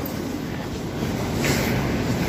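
A metro train at Partizanskaya station gives a loud, steady rumbling roar that swells slightly toward the end.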